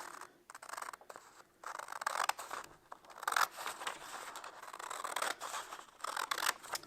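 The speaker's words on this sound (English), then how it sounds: "Go ahead and cut off that right rectangle shape." Scissors cut steadily through folded origami paper in a string of close, crisp snips and slicing rasps, with a faint papery rustle between cuts and no talking.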